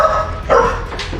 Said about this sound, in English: have a listen to the welcome home for Artemis 2 astronaut Christina Cook and what she got from her dog